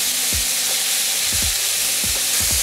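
Thin slices of lemongrass-marinated chicken fry steadily in a hot pan, a continuous close sizzle broken by several soft low knocks and stirs, with no talking.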